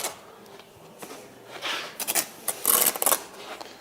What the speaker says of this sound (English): I'm scraping again, remember.